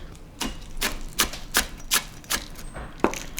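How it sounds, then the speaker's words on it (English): Green onion is sliced with a knife on a cutting board: about eight crisp, evenly spaced chops in a steady rhythm, close up and clear. "Slice up my green onion."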